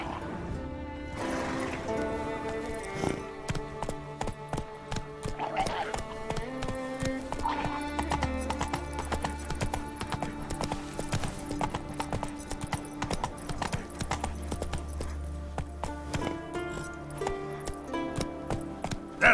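Hoofbeats of Roach, a horse in The Witcher 3 video game, clip-clopping in a steady gallop rhythm beneath loud, continuous game music with a prominent melodic score, lasting throughout.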